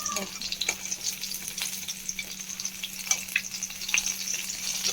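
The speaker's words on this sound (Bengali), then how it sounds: "আর এক হাতে মাছ ভাজাও করছি" Bhola fish frying in hot oil, a steady close sizzle with crackling pops throughout, alone without talk.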